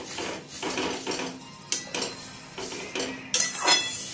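A spatula stirs grated pineapple in a wok: a run of scraping strokes with several sharp metallic knocks and clinks against the pan, close and fairly quiet.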